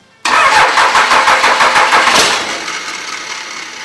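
A Cummins diesel engine swapped into a vehicle fires on its first start attempt. A sudden cranking burst with rapid rhythmic chugging catches into a loud running engine, then settles lower toward idle.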